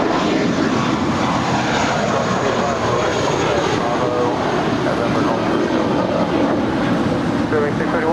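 Spirit Airlines flight 631 departs LAX for Atlanta, its jet engines producing a loud, sustained roar that stays strong throughout, with a voice talking faintly in the background.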